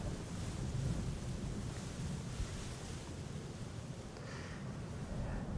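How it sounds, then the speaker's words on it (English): Wind gusts across Amsterdam Schiphol Airport near the Polderbaan runway during crosswind landings, a constant faint roaring rush buffeting the microphone, with no clear voices. "can definitely tell that the wind is picking up somewhat"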